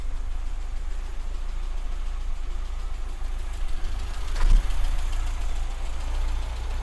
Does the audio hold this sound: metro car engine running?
yes